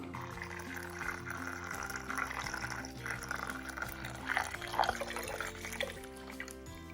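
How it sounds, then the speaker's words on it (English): Hot water at 130 degrees Fahrenheit pours steadily into a bottle with a gurgling, filling sound, heard over a constant low hum from nearby equipment. "I don't know how much water to put in here, but we're just gonna pour it in"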